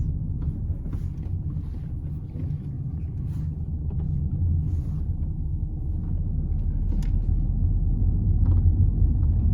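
A manual car's engine drones and rumbles low while driving on a road, steady and gradually growing louder as it accelerates, with faint clicks and no talk over it.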